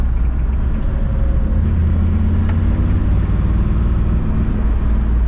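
A 1966 Ford Fairlane with a Z-code 390 FE engine and four-speed gearbox roars loudly and continuously up close, a heavy sustained engine rumble with no talking.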